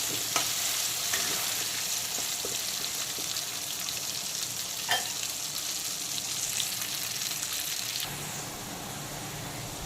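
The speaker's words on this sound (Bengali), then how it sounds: "আর আঁচটা কিন্তু অবশ্যই ফুল ফ্লেমে রেখে আলুগুলোকে ভাজবো" Potato pieces deep-frying in plenty of hot oil over a full flame give a steady, dense sizzle, with a few faint clicks and scrapes now and then and a slight drop in level near the end.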